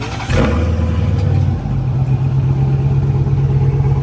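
Dodge Demon engine cranking and catching with a sharp burst, then settling into a loud, steady rumbling idle close by.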